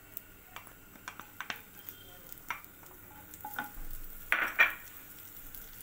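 Ginger and garlic sauté in butter with hing in a pan, giving a faint crackle with scattered light stirring clicks and taps of the utensil against the pan, and a couple of brief louder sizzles near the end.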